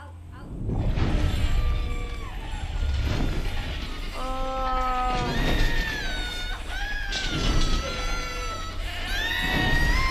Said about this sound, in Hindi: लड़की की चीखें लग रही है